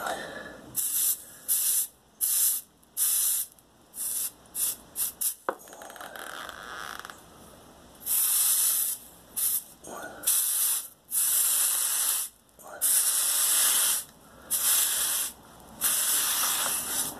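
Hot copper pipe, freshly soldered, hisses in repeated bursts as a damp rag cools it slowly, each spray-like hiss lasting about a second with short gaps, close and fairly loud, no talk.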